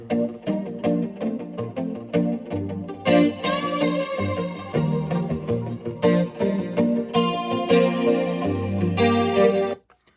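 Shimmering electric guitar sample with a lush chorus effect, played on an Akai MPC, plays a melodic phrase of chords and notes, loud and up close, ringing out before stopping abruptly.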